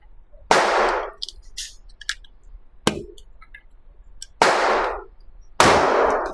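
Hi Point JXP 10mm pistol fired outdoors, four loud, sharp shots spaced a second or more apart, each with a short decaying tail, plus faint clicks between them.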